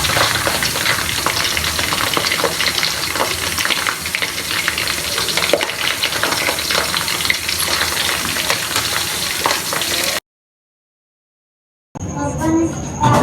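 Potato tornados fry in hot oil over high heat, giving a loud, continuous bubbling sizzle for about ten seconds, then a sudden silence followed by a brief quieter stretch of kitchen noise.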